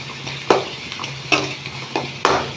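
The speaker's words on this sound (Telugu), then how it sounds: "ఇది కలర్ చేంజ్ కావాలి ఆ విధంగా వేయించుకోవాలి ఇది మాడకూడదు మాడకుండా వేయించుకోవాలి" Soya chunks (meal maker) frying in a pan, with a low sizzle under several distinct scraping stirs of a spatula against the pan, spaced about every half-second to second.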